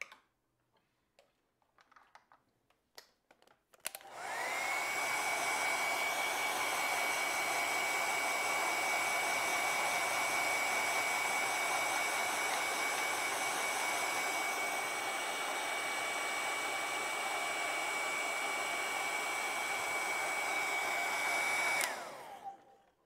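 A hair dryer blasts steadily for nearly twenty seconds to dry acrylic paint with added white during a beach and ocean wave painting, a loud constant whine and rush preceded by a few faint clicks.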